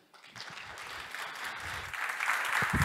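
An audience applauds a speaker at a data science conference, the clapping starting faint and swelling steadily louder over a few seconds.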